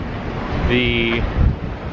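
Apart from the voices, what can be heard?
strong wind blowing into microphone outdoors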